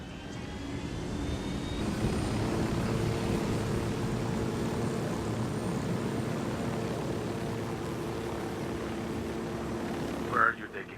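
An aircraft flying in the Ghost Recon Wildlands video game, a steady droning engine hum holding level throughout, ending in a short sharp sound near the close.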